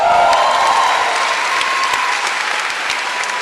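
A church congregation at a revival gathering claps with hands raised above their heads, a loud, sustained, dense burst of applause filling the room, with a faint tone held in the background.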